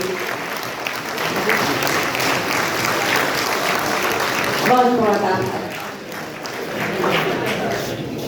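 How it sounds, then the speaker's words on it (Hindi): An audience at a government education department event in Bihar applauds loudly and steadily, the clapping filling the space while a voice speaks briefly over it. "जोरदार ताली होनी चाहिए इसके लिए"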